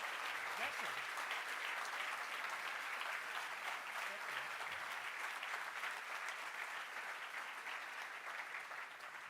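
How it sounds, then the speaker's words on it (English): An audience applauds steadily for several seconds at the Spiel des Jahres 2025 award ceremony, a dense wash of clapping that tapers slightly toward the end. "Big round of applause."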